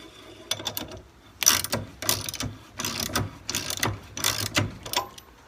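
A ratchet wrench tightens a nylock nut on a diesel storage tank cradle, clicking in several quick bursts of rapid pawl ratcheting separated by short pauses, close and fairly loud with no talking.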